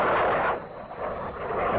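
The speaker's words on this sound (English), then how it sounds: "They're leaving on some jet planes." Jet planes flying in the 1950s film Invasion USA: a loud, continuous broadband roar that holds steady and dips slightly midway before swelling again, with no voices.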